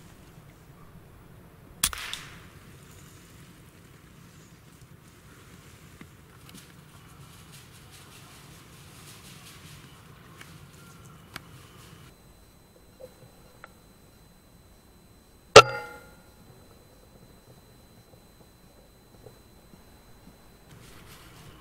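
An Air Arms S510 Ultimate Sporter sub-12 air rifle fires at grey squirrels in UK woodland: two sharp, close cracks about fourteen seconds apart, with quiet outdoor ambience between them.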